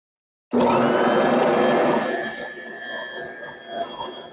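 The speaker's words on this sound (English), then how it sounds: "Now this is my Bosch mixer. It is a bottom drive mixer" Bosch bottom-drive stand mixer starting up to combine ingredients for fresh-milled English muffin dough, a sudden loud motor whir that settles into a steadier churning hum with some knocking, no talk.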